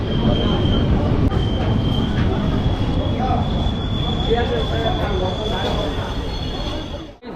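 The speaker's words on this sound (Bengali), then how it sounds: "আমাদের ট্রেন চলে এলো" A Howrah–Azimganj passenger train pulls into a station, its steady loud rumble of wheels on rails filling the scene with a faint high squeal running over it, fading slightly near the end.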